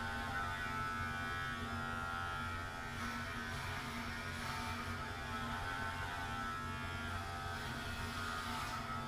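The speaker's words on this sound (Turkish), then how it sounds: "Hayatımda ilk kez saç kesiyorum Selim'ciğim." An Arzum Ducati electric hair clipper cuts hair at home, giving a steady close buzzing hum that runs throughout with slight variations as it moves through the hair.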